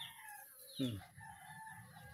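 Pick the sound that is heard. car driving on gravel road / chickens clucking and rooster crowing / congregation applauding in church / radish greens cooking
chickens clucking and rooster crowing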